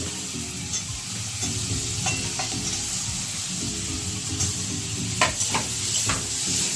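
Potatoes go into spices frying in a pan for a Bengali omelette curry, giving a steady close sizzle with occasional stirring scrapes and light clinks throughout.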